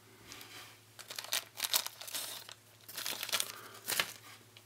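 A plastic bag holding metal weights for a model railroad boxcar kit is sliced open, giving a series of close crinkling and tearing rustles in several bursts, with no talking.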